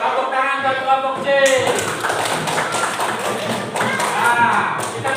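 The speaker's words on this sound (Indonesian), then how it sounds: "Tepuk tangan buat kelompok C." Classroom of students clapping for a group after a Quran recitation lesson, a dense burst of hand claps that starts abruptly and continues steadily with voices mixed in.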